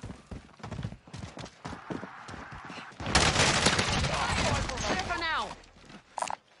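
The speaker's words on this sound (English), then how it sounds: "Taking direct fire." Heavy gunfire in Call of Duty Warzone: scattered shots at first, then a loud, dense barrage lasting a few seconds, with voices speaking over it before and after.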